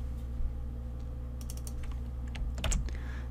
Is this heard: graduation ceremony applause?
no